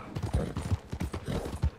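Horse hooves clip-clop in a quick, steady galloping rhythm in the Red Dead Redemption 2 video game, close and clear, roughly a dozen heavy thuds in under two seconds.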